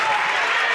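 Basketball crowd at a girls' varsity sectional semi-final game between Troy Christian and Ansonia, cheering and roaring after a made foul shot, a dense sustained wash of noise with no break.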